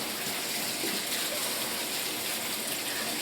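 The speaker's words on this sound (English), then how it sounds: "I have my cranberries in the colander. I'm going to rinse them." Cranberries are rinsed in a colander under running water, a steady broad splashing gush that continues evenly throughout, close and with no talking.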